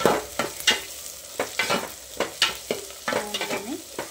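Chopped onions and green chillies are stirred in hot oil in a pan, with short scraping stir strokes recurring every half second or so over a soft, steady sizzle, close and moderately loud.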